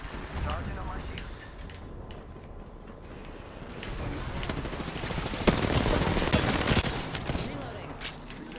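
Sustained automatic gunfire from an Apex Legends match, bursts swelling louder midway and rattling on over a busy game soundscape with faint voices.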